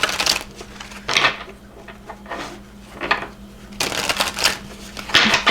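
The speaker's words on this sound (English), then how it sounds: "Let's do 3 shuffles." Tarot cards shuffled three times, with bursts of papery riffling and soft flapping that alternate with quieter gaps, close and moderately loud, and no talking.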